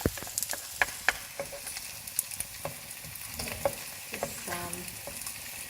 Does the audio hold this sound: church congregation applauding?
no